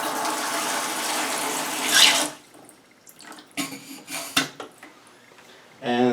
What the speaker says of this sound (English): Put the water in this black container.